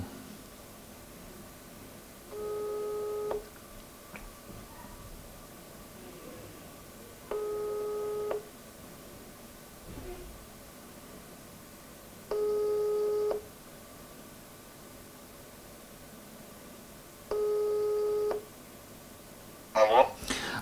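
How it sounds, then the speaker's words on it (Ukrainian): Telephone ringback tone on an outgoing call, four long even beeps spaced about five seconds apart over quiet background hiss, with a brief clatter at the end. "Телефонуємо Зінько Василію Михайловичу."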